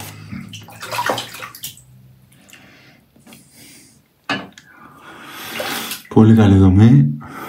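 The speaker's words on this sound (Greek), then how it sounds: "Θα βάλω λίγο νερά ακόμα" Water pours and splashes into a basin in uneven bursts, close by, with a voice speaking over parts of it, while shaving soap is lathered.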